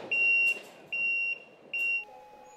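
A taxi security alarm in Las Palmas de Gran Canaria, switched on by the driver, gives three loud, evenly spaced high-pitched electronic beeps, each about half a second long, followed by a quieter lower tone.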